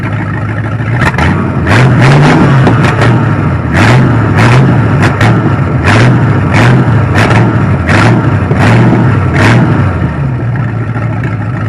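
1969 Dodge Charger engine with a poorly fitted setup that runs but accelerates weakly and chokes when pushed, a loud, rough engine drone rising and falling in repeated surges, near and continuous with sharp crackles throughout.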